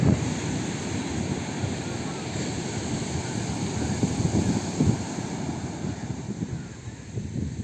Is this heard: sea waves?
yes